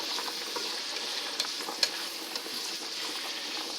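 Vegetables stir-frying in hot oil over high heat for lo mein, a steady close crackling sizzle with a few sharper pops and spatters, no talk.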